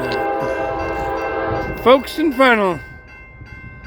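A CSX freight train arriving off the Waycross subdivision at Folkston, Georgia sounds a loud, sustained horn blast up close. Rumbling rail noise continues beneath, and someone speaks briefly over it.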